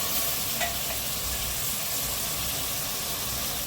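Onion, potato and peas sizzling in a pan, a steady moderate hiss with light crackles and a little stirring near the start, continuous and without speech.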